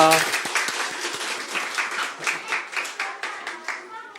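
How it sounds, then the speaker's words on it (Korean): A church congregation claps together during an afternoon worship service, a loud, fairly close patter of many hands with a slightly rhythmic pulse that keeps going for the whole stretch. "박수를 하나님께 보내드리겠습니다."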